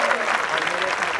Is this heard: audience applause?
yes